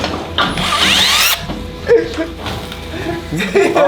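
A power drill whirs briefly at the start, rising in pitch, followed by voices talking and faint mechanical clatter.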